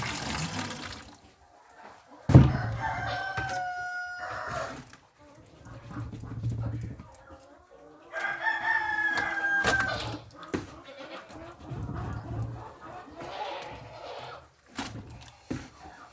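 A hoarse rooster named Willie crows at the ranch during chicken feeding, a rough, strained call partway through, amid scattered clucking, clanking pails and a nearby voice.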